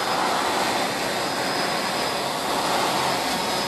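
Drone flying overhead during an outdoor football game, giving a continuous, loud, even whirring roar with no break and no voices.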